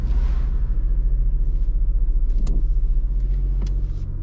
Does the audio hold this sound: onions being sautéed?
no